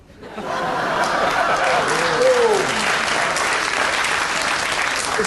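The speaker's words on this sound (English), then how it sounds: "all the women were clapping then" Women in a television comedy panel show's studio audience clap after a joke, a loud sustained burst of applause mixed with a little chuckling and a brief voice at the start.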